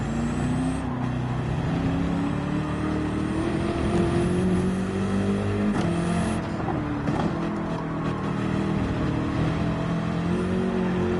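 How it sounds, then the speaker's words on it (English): A BMW race car in Gran Turismo 7 rumbles in low gear at low revs, a loud, continuous engine drone with gently rising pitch as it pulls forward, heard alone without talk. "I love how the BMW sounds in low gear or low RPM"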